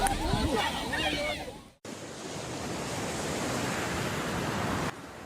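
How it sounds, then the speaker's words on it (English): Powerful waves crash and splash high into the air near onlookers, a loud sustained roar of surf and spray with wind noise, briefly cut off by a short gap before the roar resumes. "Powerful waves splashed high into the air, soaking crowds taking photos."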